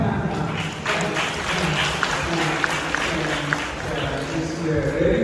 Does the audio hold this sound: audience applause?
yes